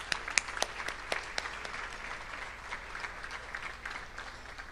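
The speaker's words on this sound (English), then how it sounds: "Let's give them a round of applause." A gala audience applauds the standing selection committee, opening with a few sharp, distinct claps that quickly merge into a softer, steady round of clapping heard from a distance in the hall.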